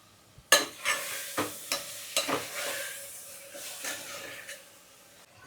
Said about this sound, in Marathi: तर आता मी मटन ऍड केलंय. कांदा लसूणची पेस्ट आणि थोडेसे खडे मसाले.